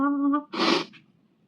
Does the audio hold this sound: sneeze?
yes